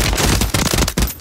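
Rapid burst of loud gunfire cracks from a battle royale video game, several close sharp shots in quick succession with no talking.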